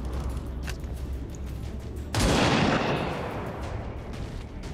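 Gunfire in XCOM 2: War of the Chosen, one sudden loud blast of shooting that fades out slowly over a steady background of game ambience.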